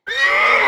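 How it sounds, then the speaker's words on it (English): An old mare gives a single loud, close neigh that holds steady and bright for under a second, with no other sounds around it. "neigh, and she knew it was Truly, her old mare"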